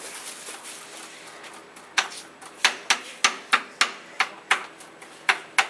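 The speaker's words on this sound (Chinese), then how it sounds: "就可以切菜。" An anti-splash kitchen knife chops vegetables on a board in a steady run of about a dozen sharp, close knocks, faint at first and then evenly spaced and crisp, with no one talking.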